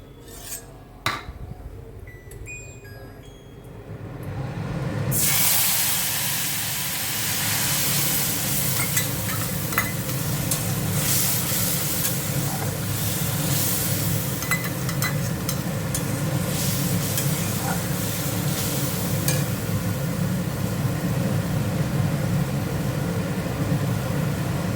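A spice paste of ground ginger, cumin, chilli powder, turmeric and salt hits hot oil after a few seconds of quiet, bursting into a loud, sustained sizzle with occasional clinks of a utensil against the pan.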